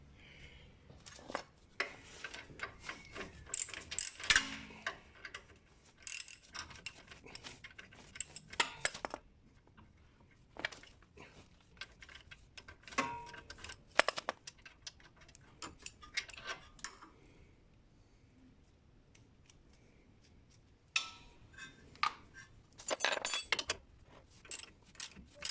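Wrench work loosening the ball joint nut on a 2001 Isuzu 2.8 diesel turbo front suspension: faint, irregular metallic clicks and ratcheting taps in scattered bursts, close by, with no talk.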